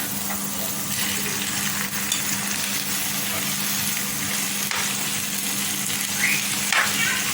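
Tomatoes go into ginger garlic paste frying in a pan, giving a steady, close hiss of sizzling oil with light stirring noises that carries on throughout.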